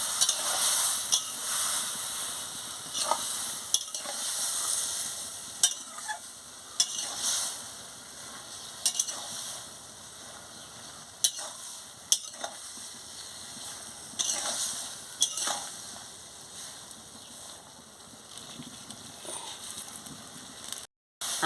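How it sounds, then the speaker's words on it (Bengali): Vegetables coated in mustard paste are stirred in a pan for a pumpkin-stem curry, a steady sizzle broken by regular scraping strokes and occasional knocks of the spoon, close by, with no speech. "সরষা বাটা দিয়ে ভালো করে নাড়িয়ে নিচ্ছি"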